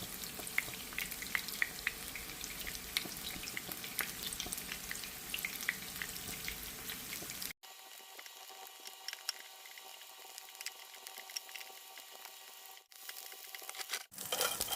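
Taquitos shallow frying seam side down in oil, a steady close crackling sizzle with small pops, dropping to a quieter hiss partway through before the crackle rises again.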